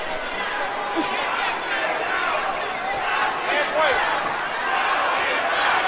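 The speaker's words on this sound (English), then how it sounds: "The crowd coming alive inside the Pensacola Bay Center" A boxing arena crowd at the Pensacola Bay Center roars and chants in a loud, continuous wall of cheering during a Roy Jones Jr. fight, with occasional sharper shouts rising above it and commentary underneath.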